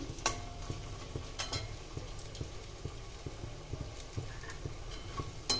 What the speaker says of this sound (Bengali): রসুনটা ভাজা ভাজা হয়ে এসছে